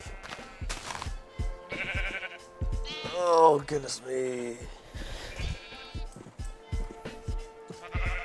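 Repeated Minecraft sheep bleats, wavering and nasal, sound over a plucky rhythmic backing track, with a person briefly exclaiming partway through.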